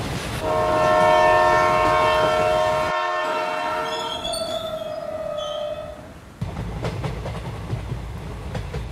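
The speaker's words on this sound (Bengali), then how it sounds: "তারপর যথারীতি রানাঘাট স্টেশনে ট্রেন ঢুকল।" In an animated cartoon, a train pulls into Ranaghat station with a long, loud, sustained horn blast, then rolls on with a rumbling, hissing rail clatter as it slows.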